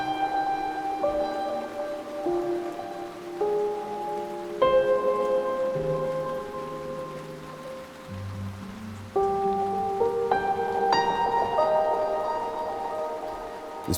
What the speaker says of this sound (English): It's actually me crinkling a plastic bag.